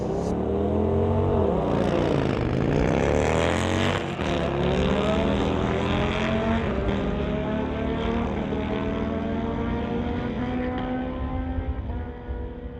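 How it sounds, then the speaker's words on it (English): Motorcycles drag racing, one of them a 2012 Victory Highball, with loud engines howling through rising gear changes that sweep up in pitch, close and sustained for several seconds before easing off. "Wow, this is a great drag race here."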